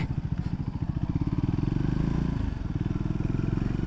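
A Royal Enfield motorcycle engine thumps with a steady, rapid low-pitched beat, close by and fairly loud, holding an even idle-like rhythm throughout.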